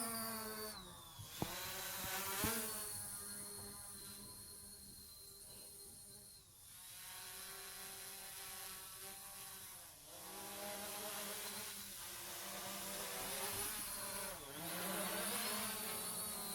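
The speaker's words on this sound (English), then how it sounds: "So we pull each joystick down into the bottom, and that'll start your motors." Motors on an IDEA 16 foldable drone with a 4K camera spin up into a steady, high-pitched whine that wavers slightly in pitch as they keep running.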